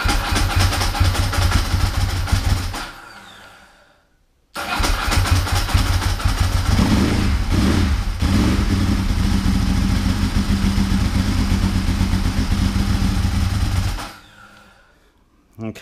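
A Ducati 748 motorcycle with a poor idle starts up loud and close, a brief silence, then the engine catches and runs at a rough, uneven idle before cutting out and firing again at the end.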